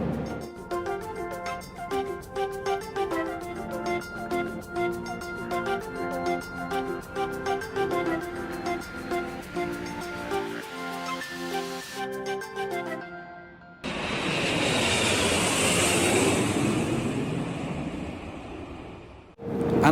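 Cabin of an Air France Airbus A318 descending into Paris: music plays for the first stretch, then a steady, loud, broadband engine-and-airflow roar fills the cabin with no talk.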